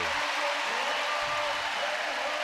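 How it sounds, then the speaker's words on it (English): A volleyball arena crowd roars after a point in a Wichita State at Nebraska match: a steady, broad wash of cheering and applause holding at an even level throughout, somewhat distant and diffuse. "you can hear the crowd roar"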